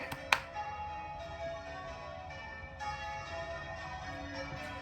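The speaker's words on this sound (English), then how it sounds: "They got married. There's the bells." Wedding bells: a bell strikes sharply near the start, followed by sustained ringing tones layered together, moderately loud, with a second swell of chimes later.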